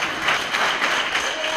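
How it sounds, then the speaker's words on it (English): A university audience applauding as an incoming student guild president comes forward at a swearing-in and handover ceremony, loud, sustained crowd clapping with a few voices underneath. "A round of applause as the incoming Guild President comes up front."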